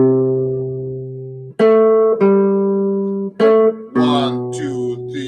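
Guitar picking the melody of a song in a low register, a few clean sustained notes and short phrases with clear plucked attacks, played alone and close.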